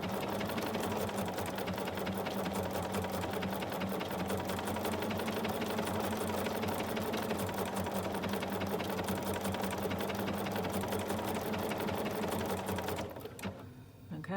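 Sewing machine stitching a double blanket stitch around a fabric heart on a Valentine's love letter pillow, a fast steady mechanical whirring and rapid needle ticking that runs continuously before stopping abruptly near the end.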